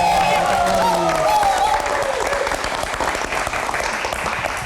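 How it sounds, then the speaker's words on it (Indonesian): Live talk-show studio audience breaks into loud, dense applause for a car-expert guest, sustained clapping under a host's voice at the start that fades after the first second. "Mas Fitra, tepuk tangan yang paling meriah dong"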